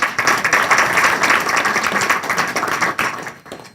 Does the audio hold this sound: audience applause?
yes